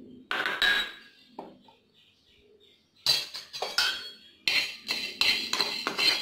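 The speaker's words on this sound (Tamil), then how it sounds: "பாருங்கள், இப்போ மிளகு வறுக்கிறோம்." Black peppercorns dry-roasting in a pan for homemade masala, heard as bursts of sharp metallic clinks and rattling scrapes, close and fairly loud, with quieter gaps between stirring rounds.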